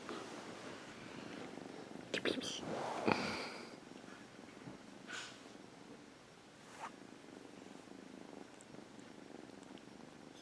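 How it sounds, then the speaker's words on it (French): A kitten purrs steadily and close, a soft continuous rumble with a few rustles and sniffs over it, while someone speaks softly. "Tu ronronnes fort."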